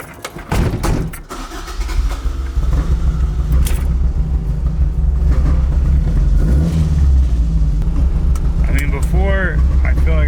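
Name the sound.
Toyota AE86 engine free revving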